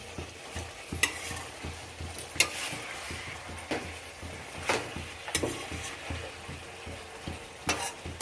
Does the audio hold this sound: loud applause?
no